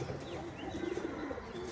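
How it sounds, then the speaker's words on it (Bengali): Pigeons coo softly on a rooftop garden in a brief, faint, low warbling call with a few light chirps around it. "এখানে কবুতর"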